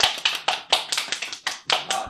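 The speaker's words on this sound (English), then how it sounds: "Everybody, clap your hands." Podcast hosts clap their hands together in a quick, fairly regular run of about nine sharp, close claps, heard alone with no talk.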